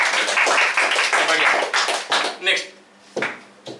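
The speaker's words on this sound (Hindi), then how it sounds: "ताली मारो एक बार।" A classroom of students clapping for themselves, a burst of applause that starts loud and dense, then breaks into scattered claps and fades within a few seconds.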